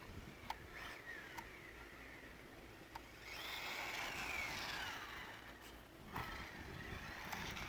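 A small HBX Ratchet RC car runs at full throttle on pavement, its high-pitched electric motor whine rising and falling through the clip, with a few sharp clicks between passes.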